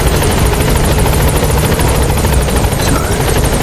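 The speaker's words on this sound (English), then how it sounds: "Support helicopter has arrived." A support helicopter in Metal Gear Solid 5 The Phantom Pain hovers close by, its rotor thumping steadily in a loud, continuous chop with a whining engine drone.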